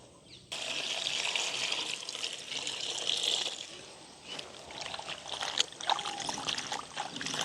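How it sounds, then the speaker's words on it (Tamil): Freshly picked garden greens are rinsed under running water, a steady close gush and splash with sloshing as the leaves are moved about, no voices. "இப்போ இது நல்ல வடிவாக நாங்கள் கழுவி எடுப்போம்"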